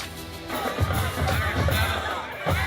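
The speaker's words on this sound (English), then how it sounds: "take a look and a listen from our student section of the week" A high school football student section cheering after a shutout win, with a roaring crowd and shouting babble in a stadium rising in loud swells.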